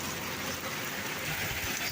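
Heavy, fat-dropped rain pours down steadily over a rural Punjabi mud-house building site, a dense broadband hiss that stays even and close throughout with no voices.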